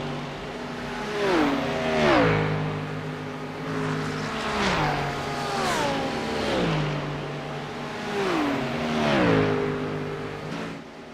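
Race car engines in the iRacing sim, a Ford Mustang and a BMW, rev up and fall back through repeated gear shifts in a steady rising and dropping whine, moderately loud with no talk.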